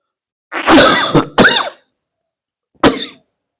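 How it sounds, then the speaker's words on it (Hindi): A person coughs close up: a harsh double cough, a brief pause, then one more short cough. "खांसी हो रही है"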